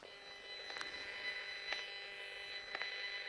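A switched-on cell phone, not making a call, gives off faint electronic signal interference: a steady buzzing hum broken by three brief, evenly spaced clicking bursts, with no speech.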